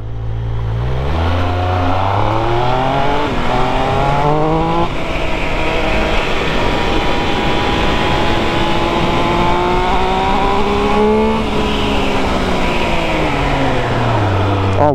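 A Triumph Speed Triple 1200 RS motorcycle engine revs up through repeated rising gear runs, loud and close, with a steady roaring drone throughout.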